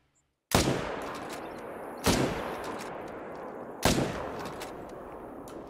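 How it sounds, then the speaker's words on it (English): Three loud rifle gunshots at bulls in the hunting video game The Hunter: Call of the Wild, spaced about a second and a half apart, each with a long echoing tail. "I'm going to go ahead and pop some shots at them."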